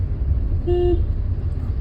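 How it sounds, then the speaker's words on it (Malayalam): A car horn gives a single short, clear honk lasting under a second during a driving lesson in traffic, heard from inside the car over a steady engine and road rumble. "ഹോണടിക്ക്"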